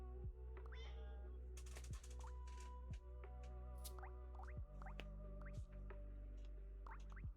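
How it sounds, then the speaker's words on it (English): A kitty meows several times in short, rising calls, fairly quiet, over a steady hum and scattered soft tones. "Hi, kitty. How are you, kitty?"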